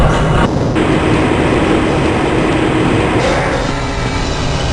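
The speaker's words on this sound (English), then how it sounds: "This train is inbound from the Area 8 topside dormitories to the Central Transit Hub in Area 9." A Black Mesa transit train in Half-Life: Blue Shift rolls along its track with a loud, steady rumble and hiss that shifts slightly as it moves, with no talking.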